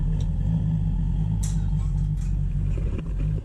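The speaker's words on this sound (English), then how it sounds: "we've got the wee waste oil burner running" A small waste oil burner runs steadily as a space heater in a cold workshop, giving a continuous low rumble with a faint hum and no talk over it.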